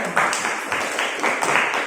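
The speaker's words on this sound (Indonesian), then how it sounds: "Tepuk tangan." A group of students in a classroom counseling session claps together, a quick burst of bright, rapid hand claps lasting under two seconds, fairly close.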